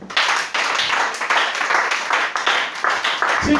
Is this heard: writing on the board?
no